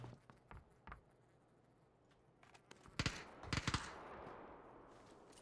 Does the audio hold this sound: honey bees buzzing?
no